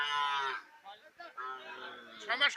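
Sahiwal cattle at a livestock market low in a few close, drawn-out moos, the first long and strong, followed by shorter calls and a final rising bellow.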